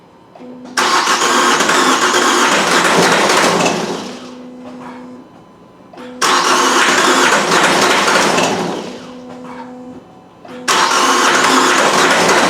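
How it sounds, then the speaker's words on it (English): A Vauxhall Astra J with an A17DTJ diesel engine that will not start cranks loudly in three long bursts, each a few seconds of steady, rapid churning of the starter motor, with short quiet gaps between attempts. "now I'm going to crank the engine and you watch"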